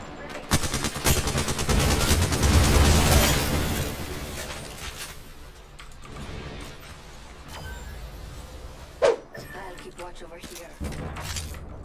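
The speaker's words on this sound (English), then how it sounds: "It's not a good gun. It's a burst and it's kind of doo-doo." Burst-fire gun shooting in the Apex Legends video game: dense, loud clusters of rapid shots crackle over the first few seconds, then sparser bursts and a sharp impact follow, with a player talking over the action.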